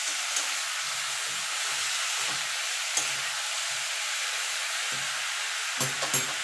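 Green chillies frying in a pan with turmeric powder for Bengali palong shaak give a steady soft sizzle throughout, with a few faint scrapes and clicks of stirring.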